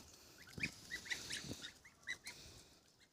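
Several geese honk at close range, short nasal calls scattered irregularly over a few seconds against a quiet outdoor background.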